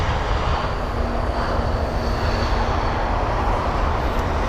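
A Swiss airliner, flight LX338, arrives at London Heathrow, its jet engines a loud, steady broadband roar with a low rumble that holds evenly throughout.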